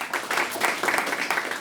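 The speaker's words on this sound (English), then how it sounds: "Everyone give Lonnie a round of applause here." A small audience at a business panel event claps for a guest being introduced, a short burst of close, uneven hand clapping that swells and wavers briefly.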